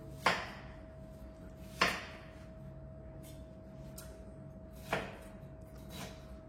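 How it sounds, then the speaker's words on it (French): A knife chops onions into squares on a board for a bolognese sauce: three or four separate sharp knocks spaced a second or more apart, close and distinct over a quiet kitchen hum. "pour les oignons, vous les coupez vraiment en carré, vous les émincez"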